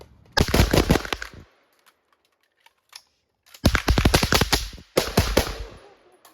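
Rifle gunfire in a shooting race, .22 and 5.56 rounds: two dense bursts of rapid, closely spaced sharp cracks, loud and near, split by a short quiet gap, with a third burst following close behind.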